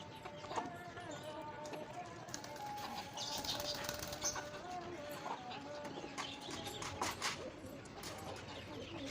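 Pigeons coo and flap their wings in a backyard loft shared with chickens, a steady murmur of birds close by with scattered wingbeats and rustling throughout.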